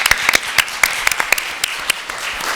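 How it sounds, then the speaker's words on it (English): A small group applauds at a children's health and learning event, the scattered separate claps standing out as sharp irregular hits over a light room hum, thin rather than a full crowd. "So let's give them a huge round of applause too."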